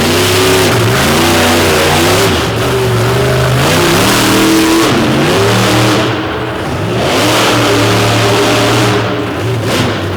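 A bright white War Wizard monster truck on big, wide Michelin Mega tires, with spools front and rear, revs loudly and continuously at an arena show, its engine pitch rising and falling through repeated throttle swells.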